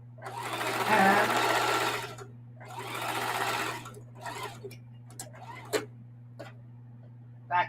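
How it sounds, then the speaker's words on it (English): A sewing machine stitching binding onto mudcloth runs in two close bursts of steady whirring, then falls quiet apart from a few faint clicks and taps over a low constant hum. "And just finish sewing across"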